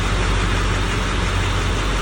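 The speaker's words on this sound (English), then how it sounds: "we'll give it a start, see if the truck starts." A truck engine starts after a crankshaft sensor replacement and runs at a steady, loud, low rumbling idle, close by and continuous, with no voices.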